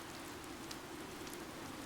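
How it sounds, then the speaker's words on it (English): Rain falls in Fire Emblem: Three Houses, a soft, steady hiss of drops at low volume with no other sound over it. "Oddly, the rain has come to fall yet again."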